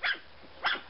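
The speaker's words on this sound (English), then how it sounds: "bark when they want their mama." Three-week-old Fuzzy Wuzzy Poo puppies give two short, high-pitched barks close by, with a brief pause between them and no talking.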